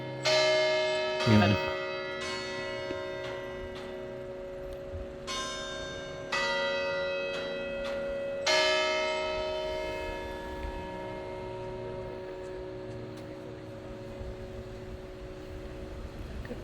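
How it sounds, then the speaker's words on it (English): Church bells of the Cathedral Basilica of St. Francis of Assisi in Santa Fe ring in repeated loud, resonant peals with long humming decay, heard outdoors with a brief word spoken early on. "And the bells are going off, and that's really"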